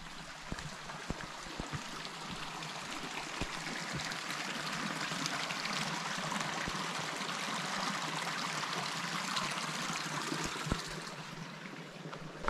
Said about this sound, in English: We got a little creek. Let's go check this creek out.